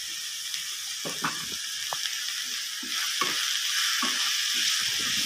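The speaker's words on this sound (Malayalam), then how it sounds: "ഉള്ളി ഒന്ന് ചെറുതായിട്ടൊന്ന് വഴറ്റിയെടുക്കാം നമുക്ക്" Small onions sautéing with salt in a pan for a Kerala drumstick stir-fry. A steady close sizzle is broken by the scrape and tap of stirring, with no talk.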